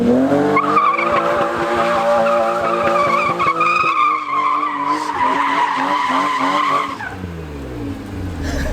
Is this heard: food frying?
no